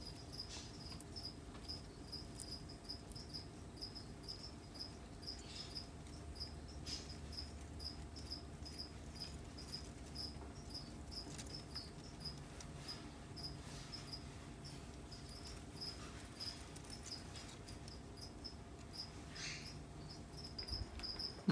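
Feeder crickets chirp in a skink enclosure, a steady run of high, rhythmic trills repeating throughout over a soft, constant background hum, with no talk.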